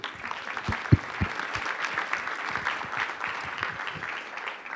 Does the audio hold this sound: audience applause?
yes